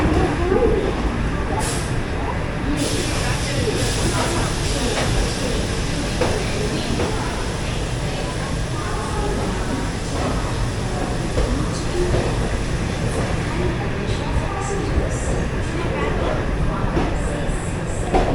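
An express train rumbles continuously as it draws into platform 4 of a station, with steady rolling noise and faint clatter of the cars throughout, and a voice speaking over the din.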